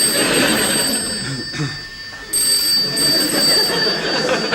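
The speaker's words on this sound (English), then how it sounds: "The telephone's ringing, dear." A bell-like telephone rings continuously in the background, with a brief pause midway, over a noisy room.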